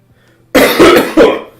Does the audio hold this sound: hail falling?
no